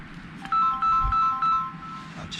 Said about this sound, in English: Oh, sorry about the phone going off.